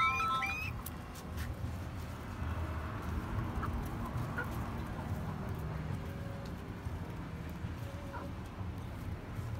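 Soft clucking of bantam Cochin and Lemon chickens in a farmyard, scattered low calls over a steady background murmur, moderately quiet and fairly close.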